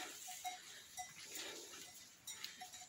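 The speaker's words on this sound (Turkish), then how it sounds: "keçilerin çan sesleri." Goat bells clink irregularly at a distance, light metallic tinkles scattered over a quiet outdoor background by a creek, as goats and sheep graze.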